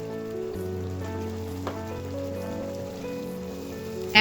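Spices and chicken frying in a pan, a steady soft sizzle running evenly throughout at moderate volume, with no talking.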